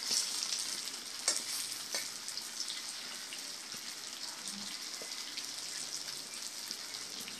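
Skinless pork sausage sizzles in a pan as it is stirred, a steady crackling fry with light scraping of the utensil close by and no talk.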